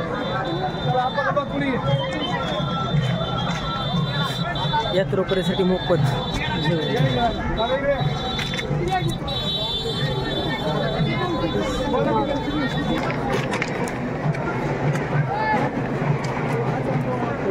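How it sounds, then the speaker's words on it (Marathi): A dense crowd murmurs and chatters while people queue for free food at Sonari's Kalbhairavnath village temple fair. Talk and babble run throughout, close and loud, with a steady tonal hum in the background. "अन्नदानासाठी गर्दी आहे ही."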